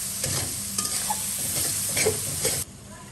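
Spices like salt, chili powder, turmeric, cardamom and cinnamon sizzle and fry in a pan, stirred with steady scraping strokes; a close, continuous hiss with brief spoon clatters, stopping abruptly near the end.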